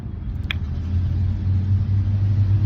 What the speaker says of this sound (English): Oh, it's a school bus.